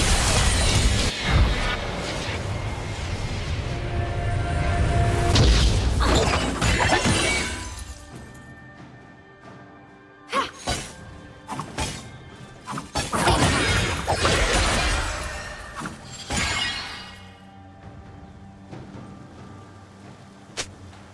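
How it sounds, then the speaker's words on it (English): Turret crumbling in a League of Legends match, a loud shattering crash with debris and whooshes, then quieter gameplay with further crashing bursts and clattering. "Red team's turret has been destroyed."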